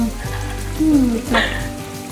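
Onions sizzle steadily in a hot frying pan, a crackling hiss close by, while a voice talks over it.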